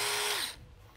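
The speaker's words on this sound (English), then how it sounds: "there is something mildly nerve-wracking about hand drilling on an Arisaka that's this nice" Hand drill boring into a Type 99 Arisaka rifle, a short high whirring run that winds down and stops halfway through, then near silence.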